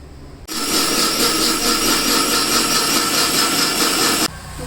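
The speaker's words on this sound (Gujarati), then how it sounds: "ઢાંકણું બંધ કરી અને મિક્સરમાં છે એ ઘૂમી લઈએ." A kitchen mixer grinder runs with its lid closed, churning masala with a bowl of water into juice. It roars loud and steady, cuts in abruptly, holds a constant whine for about four seconds, then stops.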